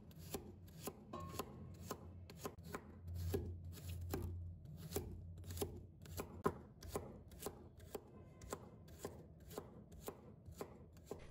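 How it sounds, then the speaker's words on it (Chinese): A kitchen knife slices garlic cloves on a cutting board, producing steady, evenly spaced chopping taps that stay faint and close, with no voices. "先给它切蒜片。"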